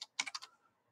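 Typing on a computer keyboard, a quick burst of four or five crisp key clicks followed by faint trailing taps, close and quiet, no talking.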